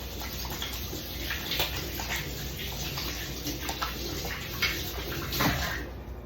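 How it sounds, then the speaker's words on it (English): Hands are washed under a running kitchen tap, a steady close-up splashing stream broken by brief spatters and shifts as the hands move through the water. "now we get to wash our hands for the millionth time."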